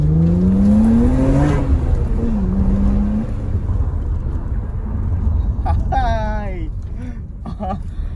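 A 1995 Nissan Skyline R33 GTR engine drones steadily while driving, with a rising rev in the opening seconds and a constant low rumble throughout, and a voice speaks over it near the end.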